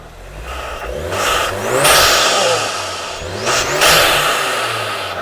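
A VW Golf R fitted with an aftermarket intake revs hard twice in quick succession, each rise a loud, close engine swell that climbs and falls with a growling, animal-like character and no talking over it.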